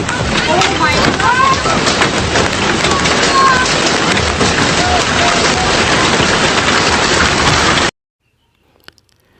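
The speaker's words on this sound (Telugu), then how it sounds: "బీచ్లో ప్రశాంతంగా ఉన్న వాతావరణం ఒక్కసారిగా భయంకరంగా వడగళ్ళ వానతో మారిపోయింది" Heavy hail and rain pound down on a beach in Brazil in a dense, loud, continuous roar, which cuts off abruptly near the end into near silence.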